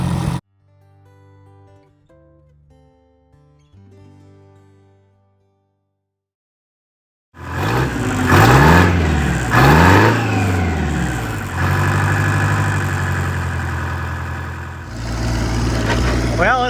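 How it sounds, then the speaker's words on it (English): An Oliver Super 77 tractor engine with a straight pipe exhaust fires up loudly after a quiet stretch, revving up and down in several rough surges before settling into a loud, raw idle and further blips. "this will be the last time you hear the straight pipe on it"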